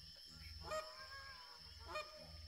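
Goose honks in a hunting video game where a flying goose must be shot with a compound bow, two loud nasal calls about a second apart over a steady low background hum.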